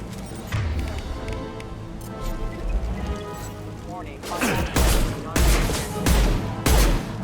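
Sniper rifle fire in the Mass Effect 2 video game, several loud sharp shots in the second half over game sound and music, with a person talking at times.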